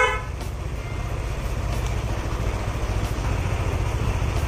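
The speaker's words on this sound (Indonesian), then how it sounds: "Suara klaksonnya seperti ini." A Hella snail horn fitted to a Yamaha NMAX motorcycle gives a brief toot at the start, then a steady, loud, low motorcycle rumble carries on alone.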